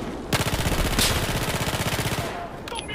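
Rapid automatic gunfire from the video game Battlefield 4 rattles in one sustained, loud burst of about two seconds, then cuts off abruptly.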